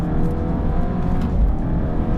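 A Stage 3 tuned Alfa Romeo Giulia engine revs hard and roars steadily as it accelerates, loud and close, with a dense, continuous drone throughout.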